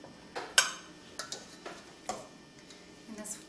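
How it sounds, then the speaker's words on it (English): A slotted spoon clinks and taps against a pan as it lays out potatoes for roasting. The sounds are light, scattered metallic ticks and scrapes with a few sharper knocks, in a quiet kitchen. "now again with a slotted spoon, just take the potatoes,"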